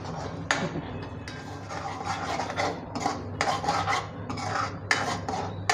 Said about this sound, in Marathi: आता हे पेस्टला चांगलं तेल सुटस्तवर आपण भाजून घ्यायचं मसाल्याला।